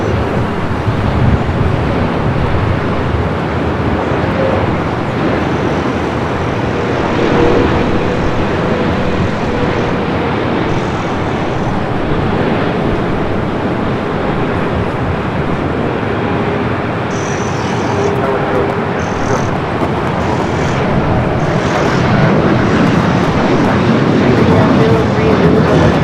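Boeing 777-300ER jet arriving at Los Angeles airport, a steady loud roar of engines and rushing air sustained throughout with wind buffeting the microphone.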